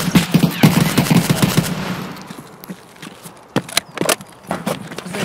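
Ash-12 rifle gunshots in Escape From Tarkov: a loud rapid burst of heavy shots in the first two seconds, then a quieter gap broken by a few more scattered sharp shots near the end.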